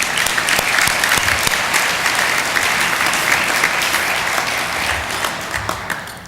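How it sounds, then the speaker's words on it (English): A downtown address audience applauds Sacramento city council members, loud continuous clapping from a large crowd that fades slightly toward the end. "Let's give them a round of applause."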